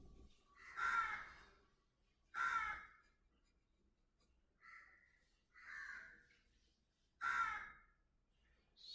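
Crows cawing around a residential colony: five harsh caws spaced a second or two apart, fairly faint and somewhat distant, with quiet between calls.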